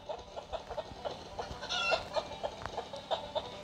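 Chickens in the Stickman Party video game cluck in quick, repeated bursts at an even rhythm, close and clear over a faint game background, with no talking.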